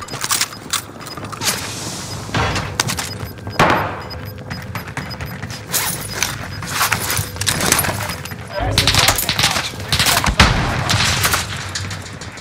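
Gunfire in the video game Warzone Rebirth, with repeated bursts of shots and booms through the clip under excited voices talking.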